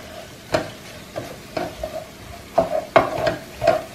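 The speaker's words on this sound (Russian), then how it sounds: "И столовую ложку муки пшеничной. Все это перемешиваю." A spoon scrapes and clinks against a pan in a few irregular strokes while a sour cream sauce with wheat flour sizzles softly underneath.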